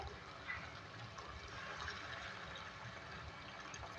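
Water poured into a pan of beef cooking with ground red chilli and tandoori masala, a soft continuous trickle and splash, faint and steady throughout.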